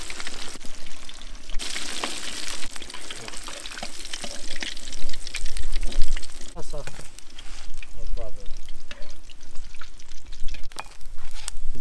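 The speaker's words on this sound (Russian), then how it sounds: "Обжариваем хорошо, до хрустящей корочки." Nutria meat sizzles in a kazan as it fries to a crisp golden crust. A steady loud crackle runs throughout with stirring knocks and scrapes, and a voice is heard at times.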